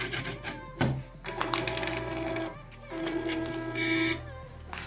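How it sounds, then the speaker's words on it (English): Stepper motor in a homemade Arduino-driven cash dispenser robot whirring with steady mechanical tones, stopping and restarting a few times, with a brief higher-pitched burst near the end; close and fairly quiet, no talking. "This stepper motor is weak as hell."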